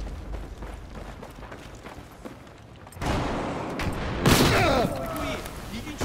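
Shotgun and other gunfire in the Battlefield 4 video game erupts into loud, dense bursts after a quieter stretch, with a player talking over it.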